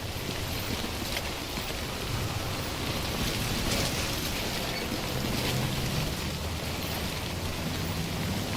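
Timefall rain in Death Stranding, a steady dense hiss of downpour with a low rumbling undertone, constant and unbroken throughout with no voices.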